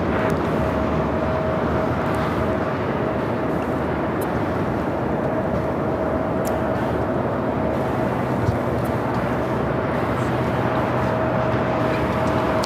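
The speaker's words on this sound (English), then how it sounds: "We got Eva Air Cargo 777 freighter up next for arrival here on the south side" A Boeing 777 freighter from Eva Air Cargo arrives on the south side runway 25L, heard as a steady, loud, broadband jet roar that sustains without break, with a faint constant tone running through it.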